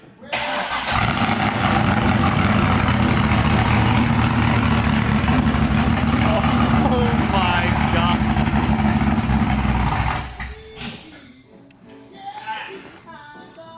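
A C5 Corvette with freshly repaired differential fires up and roars loud and close for several seconds at a steady high idle, then cuts off; people speak briefly over and after it.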